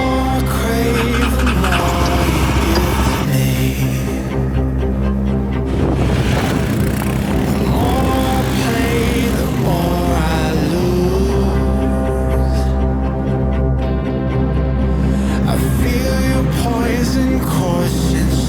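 A Yezdi motorcycle climbs fine sand slopes, its engine droning loud and close throughout, the pitch rising and falling as the throttle works against slipping tires, with wind buffeting the microphone.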